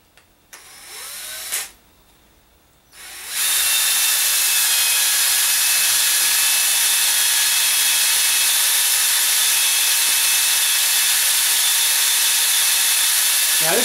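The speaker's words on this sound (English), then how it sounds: "I follow up the polishing with a 120 grit and, of course, a cordless drill" A cordless drill spinning 120-grit sandpaper to polish a differential set-up bearing whirs steadily for about ten seconds after a few brief starts and stops, a constant high-pitched grinding whine with no talking.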